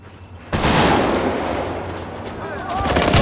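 Rapid gunfire in a cyberpunk shooter game, loud, dense bursts that start abruptly and run continuously, with a robot ally fighting alongside and the player taking fire.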